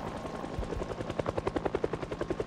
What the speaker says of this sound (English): we'll see how long the helicopter lasts